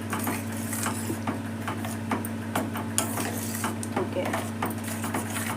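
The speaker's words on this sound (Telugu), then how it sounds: "ఇలా బాగా పప్పు ఆకుకూర మంచిగా మిక్స్ అయ్యేలాగా అలా కలుపుకున్నామంటే" Cooked dal mixed with colocasia (chamakura) greens is stirred in a pot, with light scraping and clinking strokes over a steady low hum and a brief spoken word.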